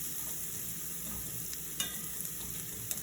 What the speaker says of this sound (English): So we're gonna let that just simmer for a minute or two.